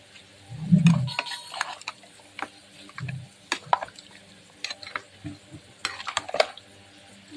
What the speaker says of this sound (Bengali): এবার তেলের মধ্যে পেঁয়াজটা দিয়ে দেবো